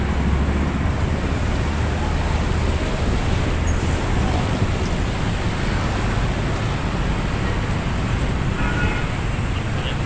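Steady road traffic along the Manila Bay baywalk, with trucks passing, forms a continuous broadband roar with low rumble, loud and unbroken for the whole stretch, with no voices.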